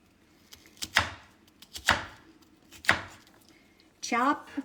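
Three sharp knife chops land on a cutting board about a second apart, followed by a brief voice speaking nearby.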